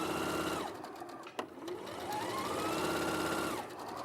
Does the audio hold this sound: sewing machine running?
yes